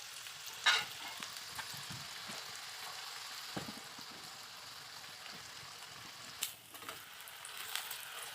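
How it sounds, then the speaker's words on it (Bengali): A mixed paratha fries in white oil in a frying pan, a soft, steady sizzle close by with a couple of brief louder crackles and spatters, and no talking. "দুটো সাইড ভালো করে লাল লাল করে ভাজতে হবে"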